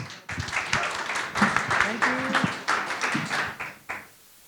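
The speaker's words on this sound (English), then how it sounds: "So give a warm applause for Ravi Karmalker" A conference audience gives scattered, moderate applause for a guest speaker, the individual claps distinct rather than dense, with voices talking over them before it stops abruptly.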